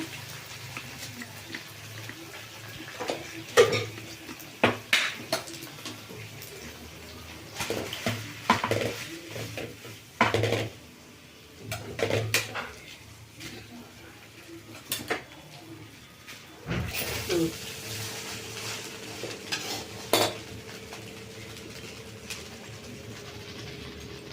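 Rice being stirred and tossed with sauces in a pan for egg fried rice, giving irregular metallic scrapes and clatters of a spatula against the pan at close range, with quieter stretches between bursts.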